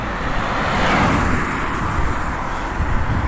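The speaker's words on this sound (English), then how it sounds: "So I'm just going to wait till the cars go past so I can talk." Broad steady road noise as a vehicle rushes past nearby, a loud continuous whoosh with no talking.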